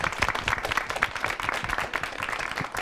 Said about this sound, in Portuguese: Uma salva de palmas para a Julie